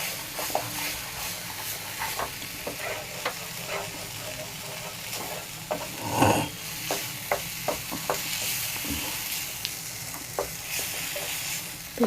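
Mixed vegetables with cumin powder stirred in a pan over heat, a steady sizzle running throughout with repeated scraping strokes and brief clinks, a louder scrape near the middle.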